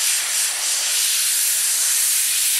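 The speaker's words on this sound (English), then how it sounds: "of the steamer and the all-purpose cleaner." A steamer blasts a steady, loud hiss without a break while the interior of a 997.2 GT3 RS is being cleaned, and nobody speaks.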